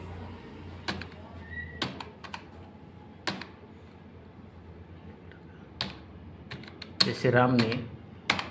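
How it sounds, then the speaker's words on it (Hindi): Keys on a computer keyboard tapped while typing text in MS Word, heard as sparse, separate clicks spread through the clip and a quick burst of keystrokes near the end, under someone talking. "यहाँ पे मैंने टाइप किया"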